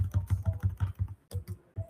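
Steady rhythmic keystrokes on a computer keyboard as an SQL insert command is typed, about a dozen close, distinct clicks at an even pace with a brief pause near the end and no voices.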